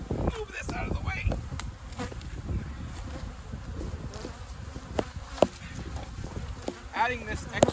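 Close, steady buzzing of honey bees swarming around an opened spring hive, punctuated by soft knocks and scrapes of the hive frames.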